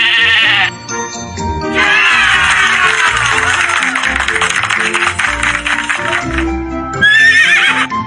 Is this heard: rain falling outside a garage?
no